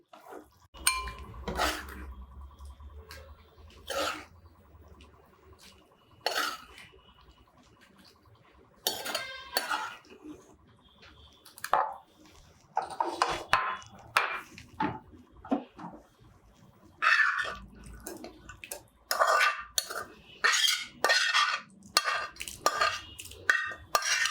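Bottle gourd and sesame curry is stirred in a pot and spooned into a serving bowl, with metal spoon scrapes and clinks against cookware in scattered bursts between quiet pauses, close by and without speech.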